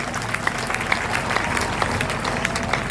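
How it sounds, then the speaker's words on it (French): Congregation in a church service applauding and cheering, a steady dense wash of clapping with crowd voices mixed in, moderately loud throughout. "acclamation."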